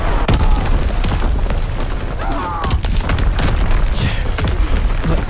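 An artillery barrage in Call of Duty: WW2 booms repeatedly, loud and close, with deep blasts and crackling debris layered over continuous battlefield noise and faint voices.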